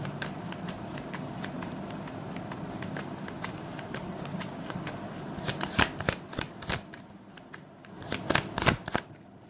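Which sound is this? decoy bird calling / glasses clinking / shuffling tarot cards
shuffling tarot cards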